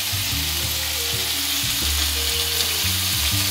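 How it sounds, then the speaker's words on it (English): Shallot and garlic sizzle steadily in a hot pan, a loud, continuous close frying hiss with faint stirring underneath. "Add the shallot and garlic to the pan."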